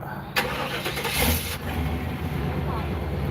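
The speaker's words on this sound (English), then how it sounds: "All right, you guys ready to hear this engine start?" A car engine, recently repaired, cranks briefly and catches, then settles into a steady, rough mid-pitched idle, loud and close, with people talking over it.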